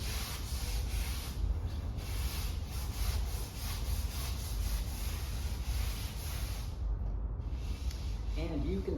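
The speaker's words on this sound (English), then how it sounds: "We're gonna sand with the grain." Coarse 120-grit sandpaper rubs with the grain across a wood sample coated three times with finish, a steady close scratchy swishing that continues for the whole stretch with a brief pause near the end.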